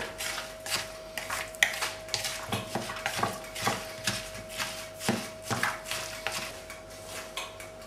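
A utensil works a meatloaf mixture with breadcrumbs in a dish, giving repeated soft scraping clinks and thuds in a steady rhythm close by over a faint hum, with no talk.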